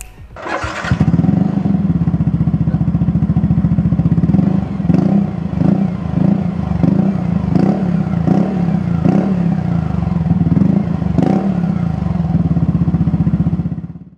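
A Yamaha NMAX scooter with a modified exhaust starts up and idles close by, putting out a steady, throaty putter with occasional small revs, no voices heard.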